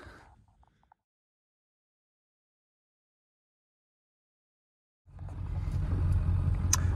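A 250 pickup truck in four-wheel low range drives on a wintry woodland cabin property. After several seconds of near silence, a low, steady engine and driving rumble begins and continues to the end.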